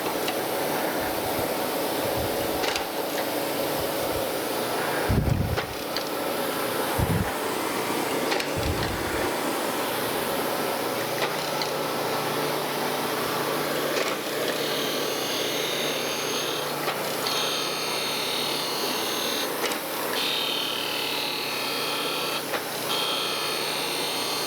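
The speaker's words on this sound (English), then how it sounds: "So I'm gonna go another pass and hopefully that'll clean it up for good." A surface grinder makes a pass over a cast camelback straightedge, a steady loud whirring grind with a few low thumps early on, holding evenly throughout.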